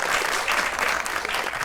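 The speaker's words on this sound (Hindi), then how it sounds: "तालियां।" Studio audience on a live Pakistani TV comedy show breaks into brief, dense applause, loud and continuous with no talking.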